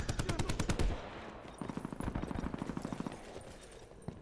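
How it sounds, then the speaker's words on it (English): Automatic weapons fire in Call of Duty: Black Ops 4 Blackout on Alcatraz, a loud rapid burst of close shots followed by a longer steady run of quicker rounds that thins out at the end. "I'm shooting, George."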